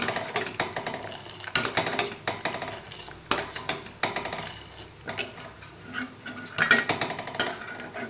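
Milk bubbling and boiling in a pot while a spoon stirs it, giving soft irregular scraping and clinking close by, with no voices.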